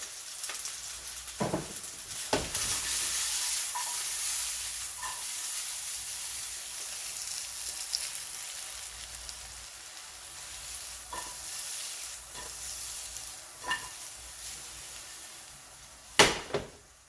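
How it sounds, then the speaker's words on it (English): Ground turkey with garlic and basil frying in a pan over high heat, a soft steady sizzle with occasional sharp stirring scrapes and clicks, no talking. "I'm gonna turn this heat up to 8 so that this meat can actually cook."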